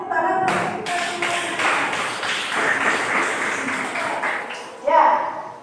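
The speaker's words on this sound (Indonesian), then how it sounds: "tepuk tangan untuk kita semua" A classroom of pupils claps hands together in a lesson, a steady patter of many palms with a louder burst near the end, mixed with voices talking throughout.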